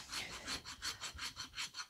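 A rasp is filed across a draft horse's hoof, giving rhythmic, gritty scraping strokes about every third of a second, close but fairly quiet, with no voices.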